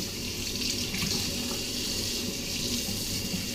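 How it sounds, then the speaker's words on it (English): Tap water running steadily into a kitchen sink while a metal zester is rinsed after zesting oranges, a continuous close hissing splash with no voices. "let me just rinse this off"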